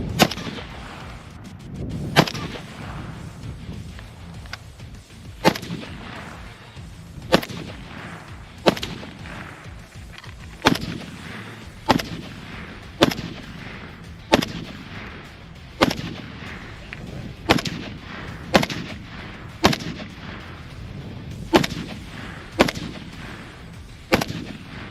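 FN SCAR rifle fired outdoors in a steady string of sharp, loud single shots, roughly one to two seconds apart, each cracking out alone with a short echoing tail and no talking.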